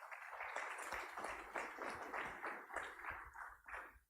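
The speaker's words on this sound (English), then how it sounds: "let's give our panelists a round of applause" Audience applause for the panelists at a Kenyan banking conference: a steady wash of many hands clapping, held at a fairly even level for about four seconds before tapering off at the end, faint and distant.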